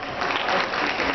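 Audience at a dance competition applauding, a dense, steady burst of many hands clapping together, loud and close with no pause.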